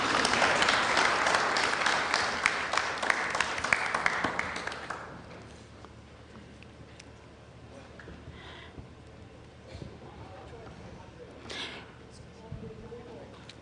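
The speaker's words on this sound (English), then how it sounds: "Let's give him a round of applause" Loud clapping from an audience for about five seconds, fading quickly into a quiet room with faint murmurs and small movements.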